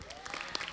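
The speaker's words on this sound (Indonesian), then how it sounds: "Boleh tepuk tangannya?" Audience applause at a school stage event after a band performance, a soft steady patter of clapping throughout, fairly quiet and distant.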